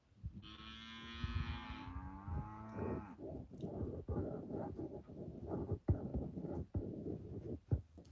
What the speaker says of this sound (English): I could hear the cows.